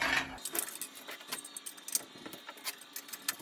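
Metal hardware clinking and jangling as a fender is bolted onto a motorized bicycle, a run of small close taps and rattles at an uneven rhythm.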